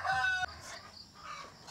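A rooster on a farm in Cebu crows once, loud and close, a harmonic call cut off sharply, followed by quieter background rustle.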